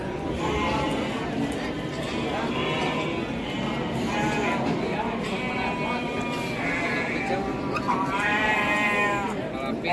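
Several Garut sheep bleat on and off at a crowded livestock market, their quavering calls rising over constant voices and general market bustle.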